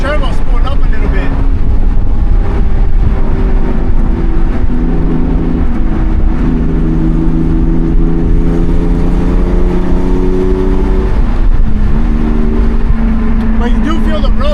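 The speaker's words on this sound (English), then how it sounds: "You can hear the turbo spooling up a little bit." Twin-turbo RWB Porsche 930 Turbo on the road, the engine droning loud and steady with rising, shifting tones as the turbos spool up under acceleration, layered over constant road and wind rumble inside the car.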